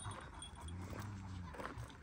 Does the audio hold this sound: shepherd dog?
yes